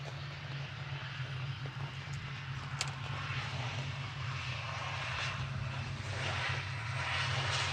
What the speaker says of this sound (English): Logan Air just on short final, coming in from Inverness with flight 597.